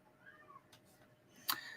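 A house cat yowls faintly and at a distance in a quiet room: a drawn-out, wavering cry, then a short, sharper call near the end, with no talking over it.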